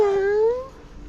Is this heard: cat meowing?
yes